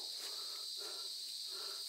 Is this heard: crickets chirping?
yes